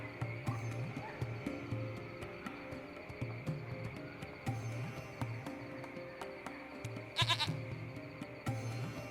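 Goat bleating in the video game Lost Horizon, heard faintly among a layered ambient soundscape with low droning tones, scattered clicks and a brief rattling burst near the end.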